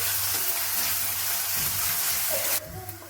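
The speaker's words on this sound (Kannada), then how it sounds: "ಒಂದು ಸ್ವಲ್ಪ ಈರುಳ್ಳಿನ ಫ್ರೈ ಮಾಡ್ಕೊಳ್ತೀನಿ" Finely chopped onion frying in a pan for idli sambar, a steady broadband sizzle running throughout at close range, with faint stirring scrapes and a sudden drop in hiss near the end.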